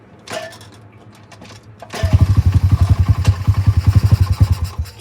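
A blue motorcycle engine running rough and low with the choke, starting after a quiet idle stretch and then chugging in a loud, uneven rapid pulse close by.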